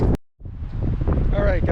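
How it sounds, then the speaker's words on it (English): Wind blowing near a marsh on Cape Cod: steady broadband gusting and microphone buffeting that runs continuously after a brief drop-out near the start. "It's getting windy, but it's still warm."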